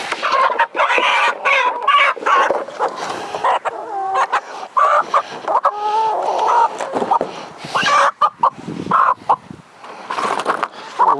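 Chickens cluck and squawk steadily near the microphone during on-farm chicken processing, a busy layer of overlapping calls, with occasional rooster-like strained cries rising above the flock.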